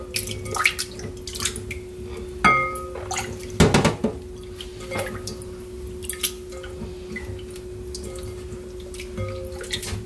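Maesaengi seaweed gets rinsed by hand in water, with soft sloshing, splashes and drips, one louder splash near the middle, close and steady beneath a faint background hum.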